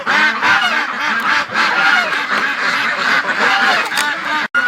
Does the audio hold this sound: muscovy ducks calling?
yes